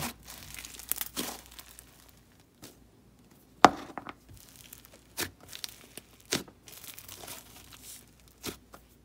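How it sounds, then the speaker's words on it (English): Crisp crackling and popping bursts, scattered and irregular, close up with quiet gaps between them, like slime being pressed and squished. "It is inflatable, so you can fluff it up and it makes really nice sizzles."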